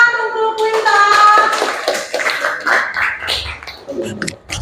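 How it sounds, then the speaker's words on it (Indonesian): A classroom claps for a student: a scattered round of hand claps rises after a brief tonal sound at the start and then fades out, close by and moderately loud. "Baik, tepuk tangan untuk Quinta."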